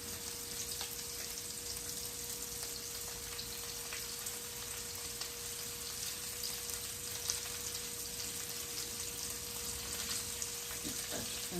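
Onions frying in oil in a pot, a steady, even sizzle with a faint constant hum underneath, continuing unbroken with no talking.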